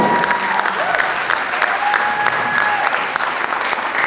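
Theater audience at the opening night of the 13th annual South Asian International Film Festival 2016 breaks into loud, dense applause, a steady wash of clapping that carries on without a break.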